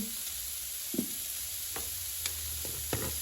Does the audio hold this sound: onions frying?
yes